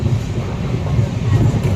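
A train runs along a railway line through tea-garden country in Assam, giving a steady, close, continuous rumble with a windy wash over it throughout.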